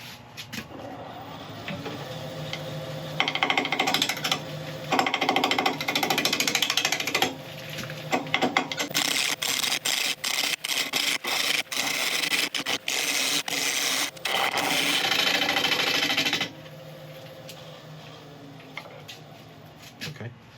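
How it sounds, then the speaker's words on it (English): A 1/2 inch bowl gouge cuts thuya burl on a wood lathe spinning at about 750 RPM, giving steady scraping, rasping bursts that start and stop repeatedly, close and fairly loud, with intermittent quiet gaps. "I've sharpened up a 1/2 inch record power bowl gouge, and we're going to be turning about 750 RPM."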